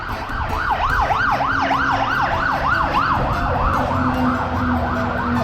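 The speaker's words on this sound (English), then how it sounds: "That's the fire brigade going past." A fire brigade siren passes close by on a hot day with a bushfire burning nearby, its loud, rapid wail cycling over and over above a rumbling engine.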